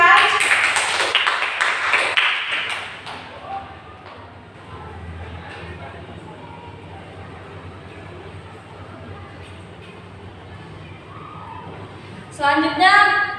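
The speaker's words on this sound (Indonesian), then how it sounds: "Kasih aplaus untuk Jehan." A classroom group applauding a student, with a burst of clapping at the start, then quieter room noise and a short return of clapping near the end.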